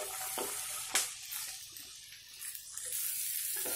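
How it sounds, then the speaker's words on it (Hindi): Boiled kidney beans sizzle as they fry in masala in a hot pan, with a steady crackle broken by the scrape and clack of a spoon stirring them. "अब हम इसमें ये उबला हुआ राजमा डाल देंगे"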